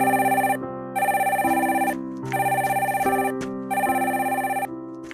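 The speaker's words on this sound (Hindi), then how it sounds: "पक्का ये तुम्हारी मॉम का फोन होगा" A cartoon telephone rings in a bright electronic ringtone, four loud bursts with short gaps between them over a steady tonal backing, with no voices.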